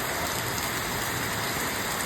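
Heavy rain pours down steadily, a dense, even roar of drops drumming on surfaces with no pauses.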